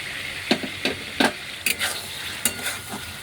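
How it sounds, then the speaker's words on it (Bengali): Ground coriander, Kashmiri red chili and turmeric sizzle and crackle in a hot pan, with a few sharp scraping stirs punctuating the steady frying hiss. "আমাদের মশলা প্রায় ভাজা হয়ে গেছে"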